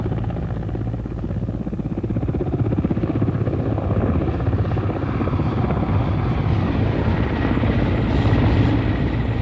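An Indian Air Force Mi-8 helicopter thunders steadily and loudly, its rotor blades producing a dense, rapid rhythmic chop over a deep engine drone that holds for the whole stretch.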